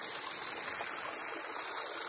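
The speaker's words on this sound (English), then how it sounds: "I found this little waterfall." A small Adirondack waterfall pours steadily, a close, continuous rush of falling water with no voices over it.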